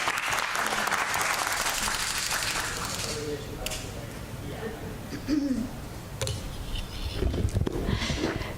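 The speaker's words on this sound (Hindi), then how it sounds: "तालियों से स्वागत कीजिए अलका जी का।" Audience applause welcoming a guest at a Hindi poetry gathering in Houston, a full, lively burst of clapping that swells, dips, and returns, with a few voices calling out over it.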